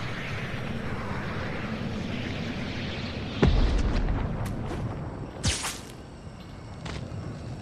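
A rocket blows up in Fortnite with a sharp, loud boom that cuts through a steady roar, then fades into lighter crackles and a smaller second blast a couple of seconds later.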